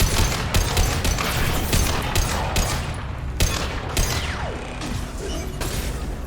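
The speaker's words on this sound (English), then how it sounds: "Legion has an amazing sniper rifle" Legion's sniper rifle fires in a Mass Effect Legendary Edition firefight on PS5, with sharp, loud shots cracking repeatedly amid dense battle gunfire and mechanical clatter throughout.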